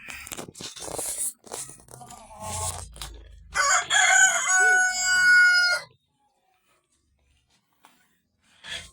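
A gentle Rhode Island Red hen making close, loud vocal calls and clucks in bursts, with scattered clicks and scuffs around it, then near silence.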